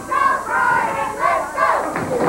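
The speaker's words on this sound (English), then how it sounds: "cheerleaders in the crowd over here cheering, let's go, Brian." Wrestling match crowd with cheerleaders yelling and chanting in rhythmic bursts, a loud, close wall of voices rising and falling across the whole span.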